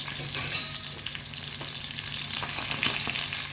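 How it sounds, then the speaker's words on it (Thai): Mackerel fries steadily in hot oil in a pan, a close, continuous sizzle with faint crackles and pops and no voices. "อันนี้เป็นปลานะคะที่ทอดนะคะ กำลังทอดอยู่ค่ะ"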